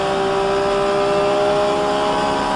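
Vintage 1960s GT race cars, including an Austin-Healey, race on a track, their engines forming a loud, continuous drone with a steady high tone that holds for the whole stretch.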